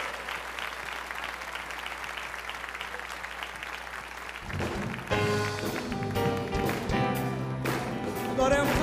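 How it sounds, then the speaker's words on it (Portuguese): A church congregation at a Sunday morning Baptist worship service applauds in a steady, dense wash of clapping, then music with piano and voices swells in over the fading claps. "Vamos aplaudir aquele que é digno de toda glória, toda honra, nosso Senhor"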